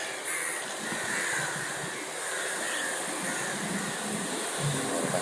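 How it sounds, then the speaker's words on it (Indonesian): Crows caw over a steady wash of broadband background noise like distant traffic, the calls sitting fairly far off with no speech. "Gagak ini sangat langka."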